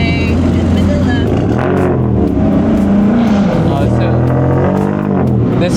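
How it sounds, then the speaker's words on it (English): A Ford Mustang EcoBoost drives past at a car meet, a steady loud engine drone with rising and falling tone over crowd noise and nearby talk. "This is a EcoBoost, that's why it sounds different."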